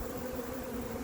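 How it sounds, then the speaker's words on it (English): A queenless honeybee colony hums as a steady, calm drone of many bees close by, continuous and even throughout. "They're all quite calm and collected. They're perfectly happy bees."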